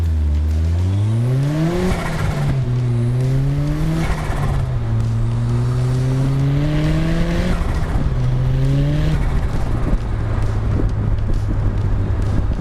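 A turbocharged Mazda MX-5 engine revving up repeatedly through several gear changes, each pull rising in pitch before dropping, loud and close.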